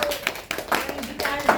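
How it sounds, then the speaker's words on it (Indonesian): A small group at an Indonesian iftar gathering welcomes a guest named Mas Dede with applause. Several sharp, irregular claps sound up close in quick bursts, brief and loosely timed. "Kita beri tepuk tangan untuk Mas Dede."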